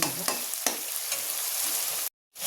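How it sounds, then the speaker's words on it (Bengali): Ingredients frying in a pan while being stirred until browned, a constant bright sizzle with scrapes of the spoon, cut by a brief silent gap near the end. "এবার এগুলোকে একটু লাল লাল করে ভেজে নেব।"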